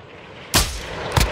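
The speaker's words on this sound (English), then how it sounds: "Enemy mortar strike in the area." Two heavy mortar blasts strike in Call of Duty Ground War, a sharp loud burst followed about half a second later by a second impact, each trailing into rumbling decay with no voices.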